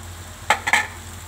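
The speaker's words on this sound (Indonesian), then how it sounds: "Lalu kita aduk-aduk." Leftover rice being stirred and fried in a pan for nasi goreng, heard as two or three quick scraping spatula strokes over a faint steady sizzle, close and fairly loud with no talking.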